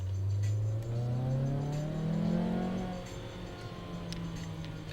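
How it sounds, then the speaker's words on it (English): A turbocharged show car's engine revs nearby, its pitch climbing and falling through a couple of swells before easing back to a steady idle. "That turbo."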